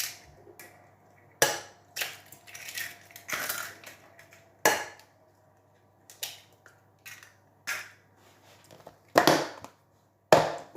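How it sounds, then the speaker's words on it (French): Eggs cracked against a bowl edge in a kitchen for an apple custard tart filling, a series of sharp separate knocks and cracks spaced irregularly, some followed by softer crunching of shell, close and clear with no talk. "on va casser 3 œufs"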